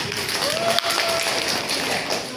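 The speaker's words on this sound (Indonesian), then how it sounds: "Terima kasih, tepuk tangan dong." Clapping from a class of students in a school classroom, a steady dense patter lasting the whole stretch, fairly close, with a faint voice briefly audible.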